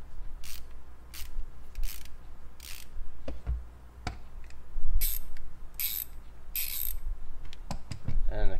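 Channellock ratcheting screwdriver clicking through its ratchet mechanism, a series of sharp, close ticks in uneven bursts over a low background hum.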